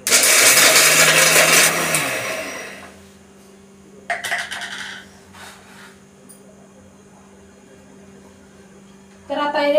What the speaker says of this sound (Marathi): तर इथं आता मी अगोदर हे खोबरं वाटून घेते.